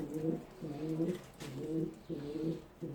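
Pigeons cooing in a home coop, several birds giving low, throaty rolling coos in repeated bursts, close and steady with no talking.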